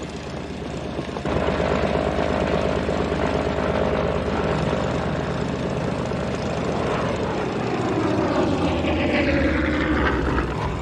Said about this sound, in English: Stand by to launch fighters.